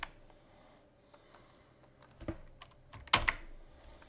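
A computer keyboard clicks out sparse, irregular keystrokes while code is written, quiet taps building to a louder cluster of presses near the end, with no talking.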